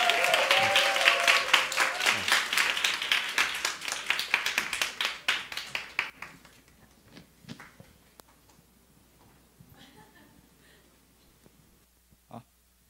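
An audience at a church testimony gathering applauds to welcome a speaker forward, a loud dense round of clapping that thins and fades after about six seconds into quiet room shuffling and a few stray taps.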